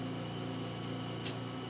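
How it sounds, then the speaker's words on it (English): A steady, even whir from the fan inside an electric countertop grill oven, a tabletop unit that heats to 575 degrees, drones on without a break for the whole stretch, close by and moderately loud. "you hear the fan going so that you know the product is working"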